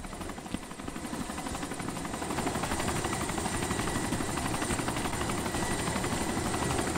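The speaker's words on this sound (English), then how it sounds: "Turn off his helicopter." A helicopter engine runs steadily in the video game Arma 2 DayZ, a continuous rotor thrum with fast chopping pulses that grows slightly louder after the first couple of seconds and holds close and strong throughout.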